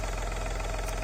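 A Volkswagen Lupo 3L engine runs at a steady idle, a faint, even low hum with a slight rhythmic knock, heard briefly and alone.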